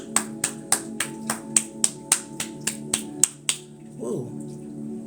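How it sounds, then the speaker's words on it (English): Hands clapping to banish negative energy: about a dozen sharp, evenly spaced claps, close and loud, then a brief murmured voice at the end. "So I was like, I felt the need to clap."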